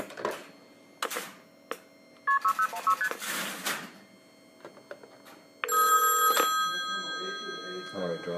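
A #5 Crossbar telephone exchange at a telephone museum: dial tone, clicking relays and bursts of tones as a call is dialed, ending in a long steady tone, with people talking quietly between the sounds.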